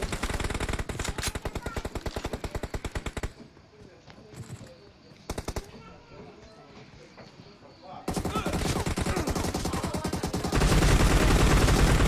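Rapid automatic gunfire bursts rattle in the battle game PUBG, dense strings of shots with a short lull of quieter scattered fire in the middle before heavy, loud shooting resumes.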